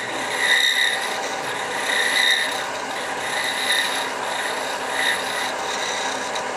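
Rhythmic rasping strokes on wood, close and loud, repeating back and forth at an even pace with no talking.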